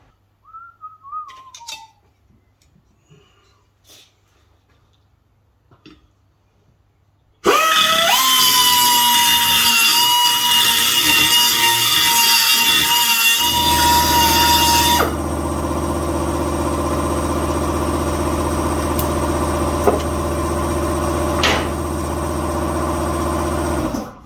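A power tool burrs out a shock absorber mount on a race car being fitted with Bilstein shocks, starting abruptly and running loud and steady with a high whine that shifts pitch partway through, after faint whistling.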